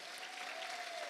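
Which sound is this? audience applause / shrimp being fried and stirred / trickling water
audience applause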